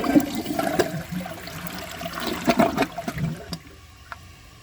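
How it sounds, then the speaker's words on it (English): An American Standard Champion 4 toilet, a 2013 model with its original flush valve, gives a short, weak flush: a rushing swirl of water that tapers off into a thin trickle within a few seconds. "The flush is extremely short and very weak"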